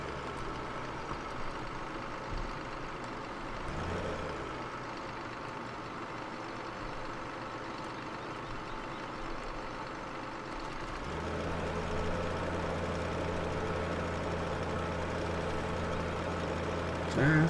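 A tractor engine idles in Farming Simulator 15, a steady low diesel rumble and drone that shifts pitch partway through, with a brief clunk near the start and a louder settled hum toward the end.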